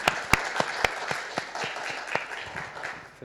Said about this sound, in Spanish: A ver, aplaudan todos.